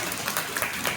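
Audience applause at a religious discourse gathering, a steady wash of many hands clapping together, fairly even and moderately loud throughout the short burst.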